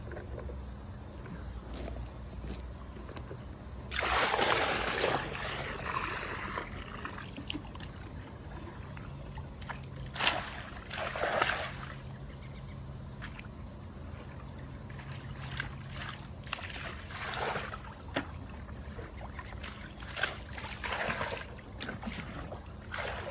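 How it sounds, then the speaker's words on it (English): Bucket of alkalinity solution being dumped into a pool with black algae, a broad watery splash and pour around four to six seconds, followed by fainter sloshing and trickling with intermittent water movement. "there's some alkalinity in a bucket of water. We're gonna dump it in the pool."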